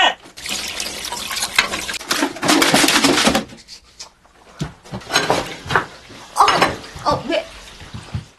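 Running water from a tap in a Korean domestic drama scene, splashing loudly for several seconds before breaking into intermittent bursts as voices speak over it.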